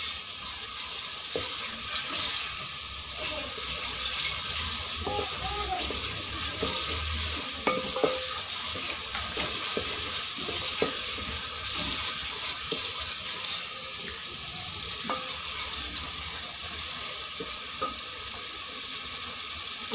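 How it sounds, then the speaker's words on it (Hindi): Tomatoes for eggplant bhujia fry in a pan, giving a steady, close sizzle broken by the scrape and click of a spoon stirring, with no talking. "इसको अच्छी तरह से हमने टमाटर को अब भून लेना है इसमें।"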